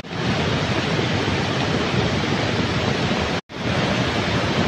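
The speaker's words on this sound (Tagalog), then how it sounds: "Palakas ng palakas yung flash flood, oh." Loud, steady roar of rushing floodwater during heavy rain at a waterfall, a dense unbroken wash of sound that cuts out for a moment before resuming.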